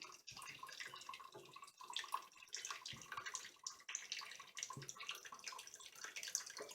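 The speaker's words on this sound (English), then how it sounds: "I'm going to put 3 ounces of water into my beaker here" Water poured from a container into a beaker, three ounces of it, gives a faint, steady trickle and splash that runs without a break for several seconds.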